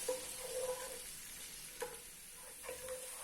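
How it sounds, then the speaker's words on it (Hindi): Garlic and ginger fry in about three tablespoons of oil in a pan, a faint continuous sizzle with a few light clicks and stirring scrapes, quiet and close with no voices. "लहसुन अदरक बहुत अच्छे से फ्राई हो गया है"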